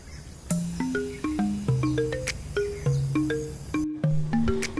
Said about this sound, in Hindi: सिर्फ विभिन्न पक्षियों की चहचहाटें